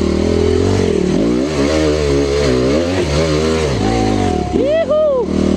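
A dirt bike motorcycle on a trail revs hard and close, its engine pitch climbing and dropping in repeated bursts as it labours, with a brief high whine near the end.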